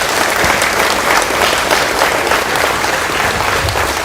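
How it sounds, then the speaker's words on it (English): Audience at a Hogs for Heroes bike gifting ceremony gives a round of applause for veterans: dense, steady clapping from a large crowd that fills the whole stretch at strong, even loudness. "let's give our veterans one more round of applause"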